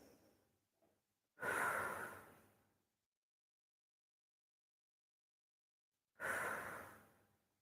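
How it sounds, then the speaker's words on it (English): Deep diaphragmatic breathing during a back pain relief workout: two long, loud, close breaths, each a strong airy exhale, separated by a stretch of near silence, with a faint softer breath near the start. "Do some diaphragmatic breathing exercise."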